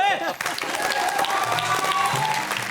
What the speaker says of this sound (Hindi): तो अर्चना अंजुम जी के लिए और टुक टुक ताली बजाओ।